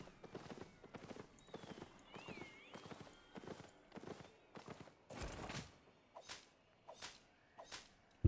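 Rhythmic clip-clop of horse hooves from a mount in the Albion Online game, a steady trot of evenly spaced hoofbeats with a brief whinny partway through, fairly close and clear with no talk over it.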